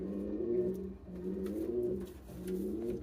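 Several pigeons coo in soft, repeated rolling phrases close by on a pigeon farm, a low throaty burble rising and falling in a loose rhythm.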